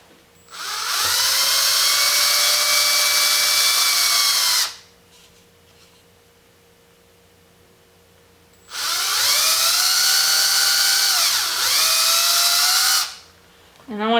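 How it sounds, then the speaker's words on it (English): Power drill boring two holes into a wooden guitar pick box, two loud sustained whining bursts of several seconds each with a quiet pause between them, close up. "So I'm just going to go ahead and drill those two holes in."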